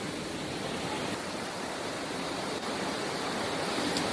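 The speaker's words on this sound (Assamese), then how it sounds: "আপোনালোকে প্ৰত্যক্ষ কৰিছে সাগৰৰ ঢৌ" Rough Arabian Sea waves whipped up by Cyclone Tauktae pound the Mumbai shore in a dense, continuous roar of surf and spray that holds steady throughout, with no voices.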